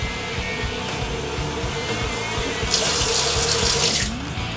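Water runs steadily from a tap into a bowl for pizza dough, a continuous close splashing stream that grows brighter and fuller partway through before cutting off near the end.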